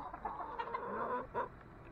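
Backyard chickens clucking in their coop, a steady run of soft, murmuring clucks and short calls close by, with no talk.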